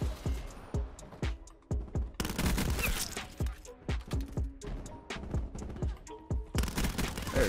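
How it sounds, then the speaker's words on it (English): Repeated shotgun blasts in a first-person shooter game, sharp and evenly spaced, with heavier bursts of overlapping gunfire in between, loud and close throughout. "There's a shotgun, that makes me uncomfortable."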